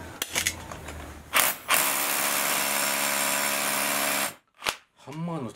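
A Panasonic EXENA EZ1HD1 hammer drill runs at full power in one long steady burst after a few short starts, then stops; brief voices talk around it.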